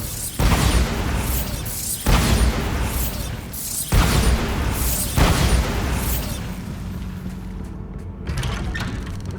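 Three heavy explosions from the Bombarda blasting spell in a Harry Potter-style video game, each a loud booming burst with a long rumbling decay, spaced about two seconds apart, followed by a fainter thud near the end.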